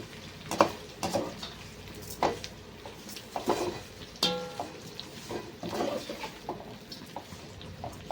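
Stirring fried rice ingredients in a pan over a low gas flame: scattered scrapes and clinks of a spatula against the pan under a soft sizzle, with no talking.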